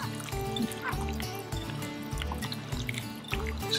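Fresh backyard orange juice stirred into raw fish ceviche, giving a steady wet sloshing and dripping that runs throughout, close and moderately loud under a faint hum.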